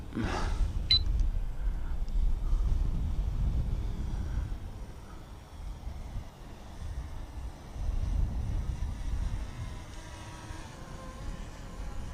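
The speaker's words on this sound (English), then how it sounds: "that wind is now quite strong" Strong wind buffets the microphone outdoors during an F199 WiFi quadcopter flight, a low rumbling roar that swells and eases in gusts, with a brief click near the start.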